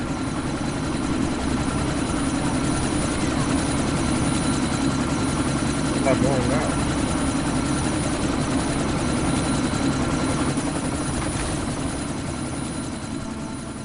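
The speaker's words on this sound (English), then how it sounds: "That chopper's about to take off!" A helicopter in the video game Deus Ex idles loudly in a steady low rotor drone, preparing to take off, with a voice speaking briefly over it.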